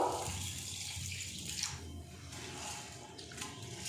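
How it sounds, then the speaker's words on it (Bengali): Water runs from a tap into a bowl of red lentils in a home kitchen, a steady close splashing and trickling stream lasting a few seconds with no talk over it. "ডালের মধ্যে আমি জল দিয়ে দেব।"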